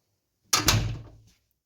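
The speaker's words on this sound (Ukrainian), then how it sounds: "Надо закрити двері, щоб ти подумав." A house door swings shut with a single close thud, followed by a short rattling decay that fades within a second in an otherwise quiet room.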